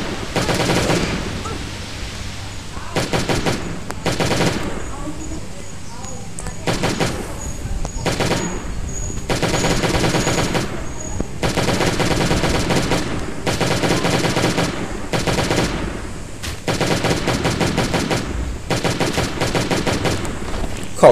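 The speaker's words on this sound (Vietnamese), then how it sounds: "Khẩu súng này hụt nhiều quá các bạn ạ" Repeated bursts of automatic gunfire from the survival video game Last Day on Earth: Survival, loud rattling volleys separated by short pauses across the whole stretch, with a voice talking quietly in between.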